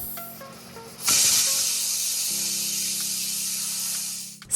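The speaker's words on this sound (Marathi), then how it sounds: "कुकरमध्ये ठेवून मध्यमाचेवर सहा ते सात शिट्ट्या करून घ्यायच्या आहेत" A pressure cooker whistle, with peas cooking inside, bursts in as a loud, sustained hiss of escaping steam lasting several seconds, over a low steady hum.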